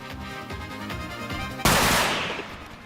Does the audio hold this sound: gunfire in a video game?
yes